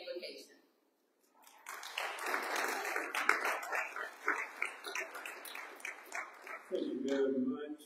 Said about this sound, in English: please give a round of applause as Reverend Dr. Thomas Walker comes to the podium